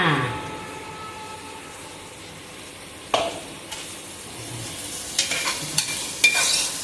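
Onion tempering for gravy sizzles and fries in a pan while a spoon stirs it, with a steady crackle and a few sharper scraping strokes near the end. No one speaks.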